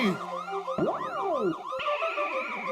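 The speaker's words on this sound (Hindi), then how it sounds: "फोन में पुलिस सायरन का रिंगटोन क्यों रखा?" An electronic police-style siren ringtone wails and whoops in rising and falling sweeps, clear and continuous with no voices.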